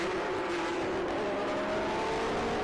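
Air-cooled Porsche race cars roar away together at a green flag start, a loud, continuous, dense engine drone with a steady pitch throughout.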